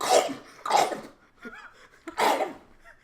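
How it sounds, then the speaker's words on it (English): Three harsh, close coughs come in quick succession, separated by short breathy gaps and a faint throat sound. "You're coughing."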